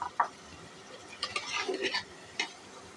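Potatoes stir-fried with spices in a pan for a chicken and new-potato curry: a few scraping, clinking stirs of a spoon against the pan over a faint sizzle, close and brief.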